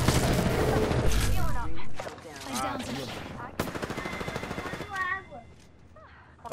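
Rapid video game gunfire crackling in dense automatic bursts, close and punchy, mixed with players shouting over it.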